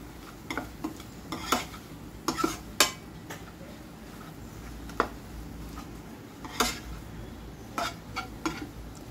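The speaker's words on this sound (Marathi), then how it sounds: "आता गॅस तुमचा मीडियम फ्लेमवर ठेवा आणि फटाफट फिरवत जा." A spoon stirring egg bhurji in a pan over a medium flame, with quiet, scattered metallic scrapes and clinks in an irregular rhythm over a soft sizzle.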